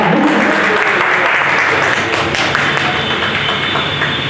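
Audience at a stage performance clapping in dense sustained applause to welcome the performers, loud and continuous throughout.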